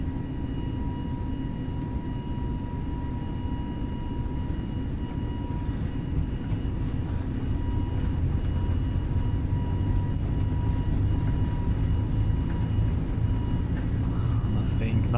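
Boeing jet engines at full takeoff throttle in Flight Simulator 2020 produce a steady, dense roar with faint whining tones that grows slightly fuller over time, while a voice talks over it.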